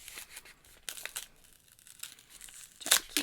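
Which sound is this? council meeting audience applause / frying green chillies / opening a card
opening a card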